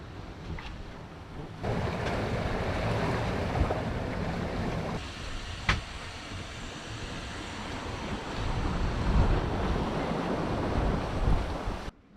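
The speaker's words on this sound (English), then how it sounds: "Another lovely day of downwind sailing in the sunshine." A sailboat running downwind on the Atlantic in sunshine, with a steady rush of waves and wind buffeting the microphone throughout and a brief knock midway, continuous and fairly loud with no voices.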